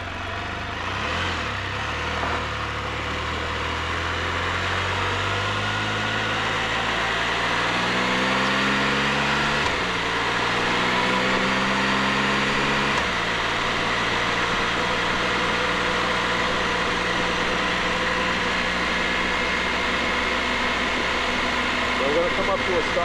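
A Can-Am F3 Spyder three-wheeler under way, its engine droning steadily while the rider holds the throttle open and clicks through upshifts, the pitch climbing and stepping down at each shift, with wind rush throughout.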